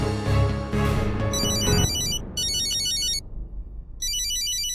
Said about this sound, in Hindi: रौनक की कॉल आई है। जल्दी उठाइए